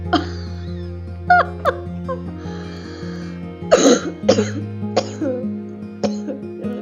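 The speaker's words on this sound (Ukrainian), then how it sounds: "Кашляю." Several short coughs and throat-clearing bursts come in scattered fits, close by, over a steady low hum.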